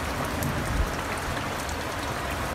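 Torrential rain pouring down at night in Argyle, a loud, steady, dense hiss of heavy rainfall hitting surfaces, continuous and close with no voices.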